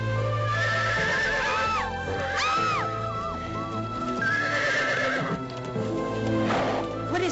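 Horse neighing in several rising and falling whinnies, with hooves clip-clopping beneath, close and loud throughout, no talking.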